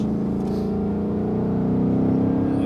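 A Ford Mustang Bullitt accelerates hard on the Le Mans race track, its engine giving a loud, close, buzzing drone that climbs steadily in pitch without a break.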